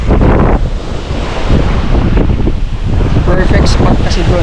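Ocean waves and gusty wind on a Boracay beach known as a kitesurfing spot, where the surf roars steadily and wind buffets the microphone throughout, with faint voices under the noise.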